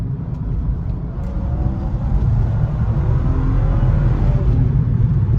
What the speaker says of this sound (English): Smoother acceleration, and that's right where that was just a half throttle little tiny pull